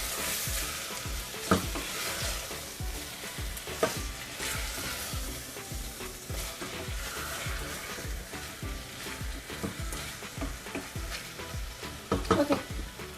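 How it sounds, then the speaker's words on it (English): Garlic and ginger paste sizzling in a pan for bhuna gosht while being stirred, with a continuous frying hiss broken by repeated scraping strokes and a few sharper knocks of the utensil against the pan. "we're gonna add garlic and ginger, adrak laisan ka masala, adrak lasan, and we're gonna stir it for 2 minutes"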